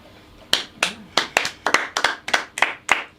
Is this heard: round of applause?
yes